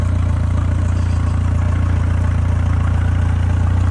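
A Yamaha VMAX outboard motor idles steadily up close after its first start-up, a loud, even low-pitched throb with a fine rapid pulse and no voices over it.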